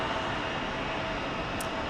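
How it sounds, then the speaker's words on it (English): Jet airliner noise from a TWA Boeing 747 SP at Phoenix Sky Harbor airport, a steady, broad engine roar that holds loud and unbroken throughout, with no talk over it. "747 SP from TWA. That's a classic."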